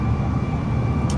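An A320 airliner's engines drone steadily from inside the cabin, a loud constant low roar with a brief hiss near the end.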